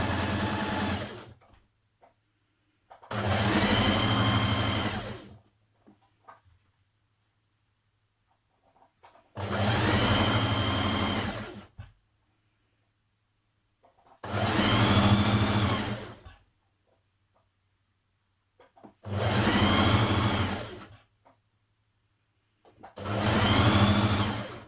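A sewing machine stitches the centre back seam of a skirt with a 1.5 cm seam allowance, running in five steady bursts of a few seconds each, separated by quiet pauses, loud and close.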